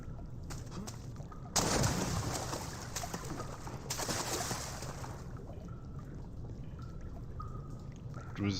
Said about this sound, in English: Were those my splashes?